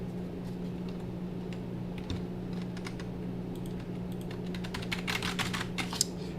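Soft, steady computer keyboard typing with irregular key clicks over a constant low electrical hum, quiet and close, growing a bit busier toward the end.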